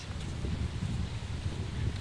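Gusting wind on San Andrés Island, Colombia, buffets the microphone with low rumbling bursts, fairly loud and continuous, no voices.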